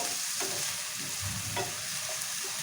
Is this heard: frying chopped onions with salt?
yes